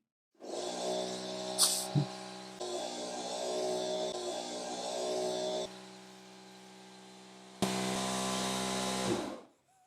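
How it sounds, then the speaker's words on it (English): A workshop air compressor kicks on with a steady motor whine and hum that shifts in pitch and loudness several times, then cuts off near the end. It runs alone with no talking. "So that was the air compressor in the workshop just firing up."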